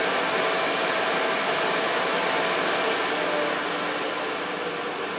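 A loud, steady broadband whoosh of a new AEG Ultraone Green vacuum cleaner motor running at maximum power, holding constant throughout with no voices.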